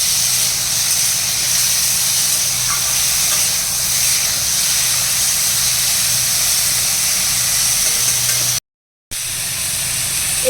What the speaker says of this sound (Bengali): দুটো শুকনো লঙ্কা আর পাঁচ ফোড়ন ফোড়নে দিলাম এবার এটা একটু ভাজা ভাজা হোক